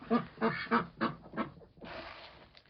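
Farm ducks quack in a close, rapid series of nasal calls with a brief pause, then a softer, raspier stretch of quacking.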